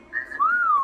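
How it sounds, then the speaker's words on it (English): A person whistles once up close, a short tone sliding into a longer, louder note that rises slightly and then falls away. "Who whistled like that?"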